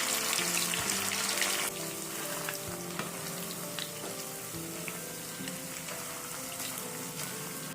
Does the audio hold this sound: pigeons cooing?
no